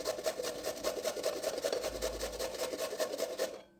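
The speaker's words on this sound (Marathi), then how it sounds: "आता आपण एका किसनीने हे बीट किसून घेऊयात" Beetroot being grated on a hand grater, a steady rhythmic rasping of repeated strokes, close and fairly loud throughout with no talk.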